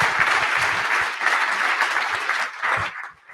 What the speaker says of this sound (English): please give a round of applause to this great panel